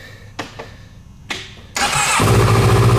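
A Kawasaki Versys 650 ABS motorcycle with low mileage is started: a few short starter clicks and cranks, then the engine catches and settles into a loud, steady close-up idle.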